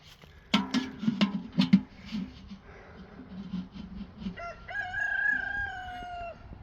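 A rooster crows loudly near the end, following clucking and bursts of nearby noise and low voices.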